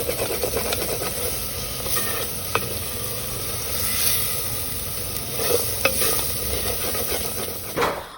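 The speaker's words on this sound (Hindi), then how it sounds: "तो सारे मसालों को डाल देते हैं, फिर अच्छे से इसको पकाते हैं।" Spiced rajma cooking in a clay pot, with a steady sizzle and occasional scraping and clinking of the spoon as it is stirred, close and moderately quiet, with no voices.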